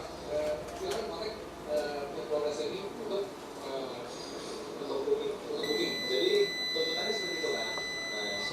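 A multimeter's continuity buzzer beeps in short, intermittent high tones as probes touch points on an Axioo Neon CNC laptop motherboard with a power LED blinking fault, while someone talks over it.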